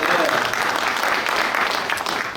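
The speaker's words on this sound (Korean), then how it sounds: "여러분 박수 한번 보내드리세요." Audience applause at a Korean panel session on national unity, a dense, steady burst of clapping filling the room for a couple of seconds with a faint voice underneath.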